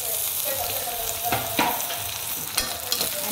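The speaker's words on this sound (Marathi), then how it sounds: "आणि टोमॅटो आणि कांदा चांगला तेल सुटेपर्यंत हे शिजवून द्यायचं।" Tomato and onion cooking in oil as a base for pithla, giving a dense continuous sizzle with a few louder stirring scrapes, close and steady, no talking.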